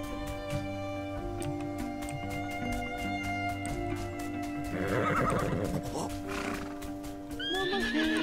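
Black horses in a video game neigh and whinny over steady clip-clopping hooves, with repeated close hoofbeats under ambient game music and a sharp high whinny near the end.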